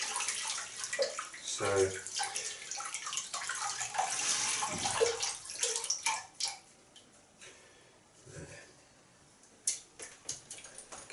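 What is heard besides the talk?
rinsing a boar shaving brush under running water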